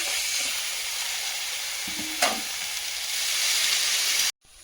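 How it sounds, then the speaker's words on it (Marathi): Hyacinth bean pods stir-fried with spices in a hot pan give off a steady bright sizzle, with a brief scrape of the spatula partway through before the sound cuts off abruptly. "आपण याच्यात शेंगा टाकूया आणि त्या परतून घेऊया"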